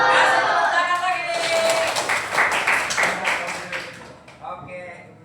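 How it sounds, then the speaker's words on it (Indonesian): A classroom group applauds, a burst of scattered hand claps and taps that tapers off over a few seconds, mixed with voices in the room. "Kasih tepuk tangan lagi."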